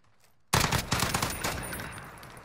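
A sudden loud burst of automatic gunfire in the video game Modern Warfare erupts after a brief quiet moment, with rapid shots rattling on and slowly fading.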